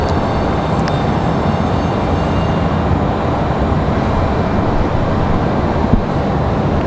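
An Icelandair plane departing at Raleigh Durham airport sends a loud, continuous broadband jet roar rumbling steadily from mid-distance, with a brief sharp click and a thin high whine near the start.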